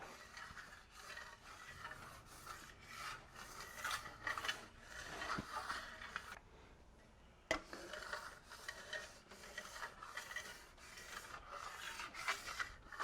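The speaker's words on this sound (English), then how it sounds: "I'll give it a few more passes with my blade now that it's dry." A steel blade makes repeated rasping passes over dried Venetian plaster on a wall to polish it, a rhythmic scraping close by with one brief pause and no talk.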